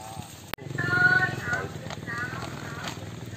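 Horse hooves clip-clopping with a brief whinny in a rural outdoor setting, a single sharp knock followed by a rising neigh-like call and scattered steps, while people talk nearby.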